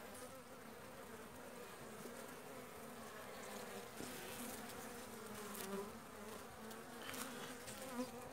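Honey bees in a weak hive buzz in a dense, steady drone, close and continuous, with the hum of many insects swelling slightly now and then.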